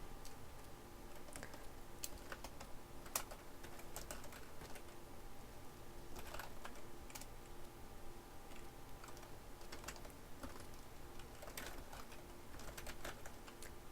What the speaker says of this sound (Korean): 그럼 이제 타자를 칩니다.